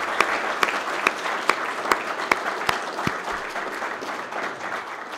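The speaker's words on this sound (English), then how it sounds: "How about a quick round of applause for our candidates as well?" A community audience at a candidates' night applauds the candidates, a steady wash of clapping with several louder individual claps standing out near the front.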